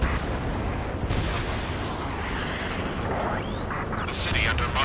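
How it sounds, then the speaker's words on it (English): Gunfire and the roar of jets echo through city streets under martial law in Ace Combat 7: Skies Unknown, a dense, steady wash of battle noise with a jet sweep and bright bursts near the end. "gunfire and the roar of jets echoing through the streets"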